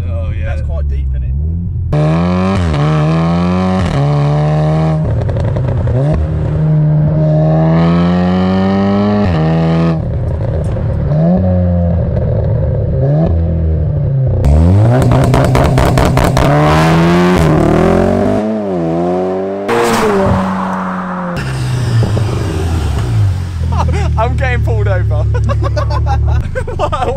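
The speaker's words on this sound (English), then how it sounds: "Yeah, the Golf R is now incredibly loud." A VW Golf R fitted with a straight pipe exhaust revs repeatedly, deep rising and falling engine blasts loud and close, with people talking between the pulls.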